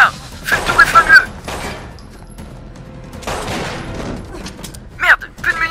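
Gunfire rings out in an action scene from Agents of S.H.I.E.L.D., in loud, sharp bursts near the start, middle and end, separated by quieter stretches with voices and background noise.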